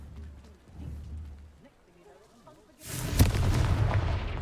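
A Confringo blasting spell explodes in the video game Hogwarts Legacy. A quiet ambient stretch gives way to a sudden loud, booming blast with a rumbling, crackling tail that carries to the end.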